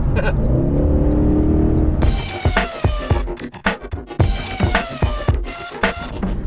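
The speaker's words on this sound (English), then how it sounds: "I've just driven 100 miles in an SLS AMG, and because the roof's off, it makes a wonderful noise" A Mercedes SLS AMG with the roof off, engine droning steadily and then a run of sharp revving bursts and throttle blips with crackling pops, loud and close.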